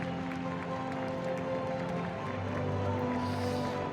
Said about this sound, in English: Amane Beriso taking the applause from her compatriots